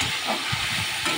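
Masala paste being sautéed for a home-cooked mutton curry, a continuous close hiss and sizzle with soft intermittent stirring bumps, no talking.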